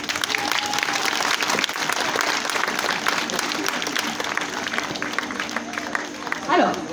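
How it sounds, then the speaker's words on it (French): Sustained audience applause at a live show in Vitry-le-François, dense steady clapping across the whole stretch with a brief louder swell near the end and faint voices mixed in. "Monsieur Sefo, sous vos applaudissements, s'il vous plaît."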